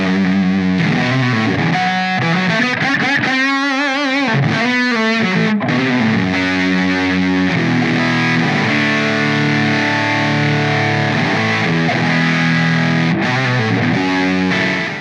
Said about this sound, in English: It's a crunch voicing EL34 power amp tube, and it's got a fuzz pedal on the front end in that pre-effects section.